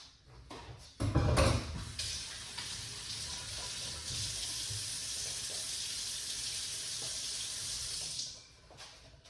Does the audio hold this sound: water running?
yes